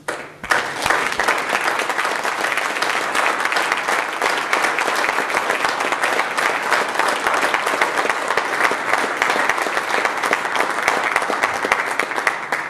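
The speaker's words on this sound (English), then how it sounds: "please stand and join me in a round of applause for our brothers and sisters in service" An audience gives sustained, loud applause for military service members at a Patriot Day ceremony, steady dense clapping from a large crowd that continues evenly without a break.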